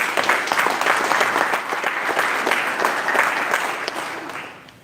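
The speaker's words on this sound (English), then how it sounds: "So give him a round of applause." An audience at a soccer press conference applauds, a dense steady clapping that holds for several seconds and then tapers off.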